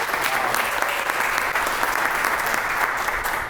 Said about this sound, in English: Y'all give her a round of applause as well.